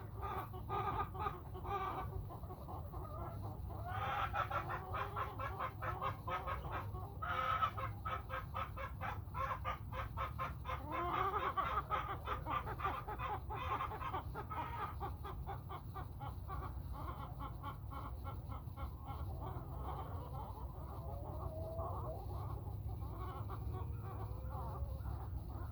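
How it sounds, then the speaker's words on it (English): Active backyard hens cluck and chatter steadily through a quiet morning, with occasional louder calls and a rooster-like crow mixed in against a constant low background hum. "I'll leave you with a nice little morning walk and just some active chickens"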